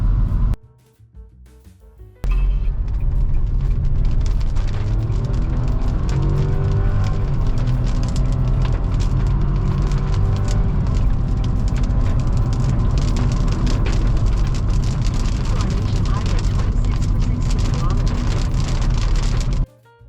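Cabin of a 2022 Nissan Almera VL NSport at higher speed: a constant loud broadband road and wind roar, like heavy rain, starting abruptly after a quieter moment and holding steady until a sudden cut at the end.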